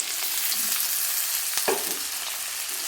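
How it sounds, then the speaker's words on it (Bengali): Sliced potatoes and reddened onions fry in oil in a pan, giving a steady close sizzle with a brief stirring scrape partway through and no talking. "পেঁয়াজটা একটু লাল হয়ে যেতে আমি এখানে কেটে রাখা আলু দিয়ে দিচ্ছি।"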